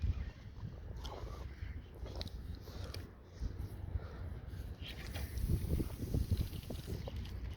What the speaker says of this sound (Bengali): হেবি খানদানি বাতাস।